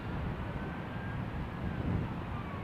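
A passenger jet arriving on runway 09L at Heathrow gives a steady, loud engine roar with a broad low rumble and a faint whining tone throughout.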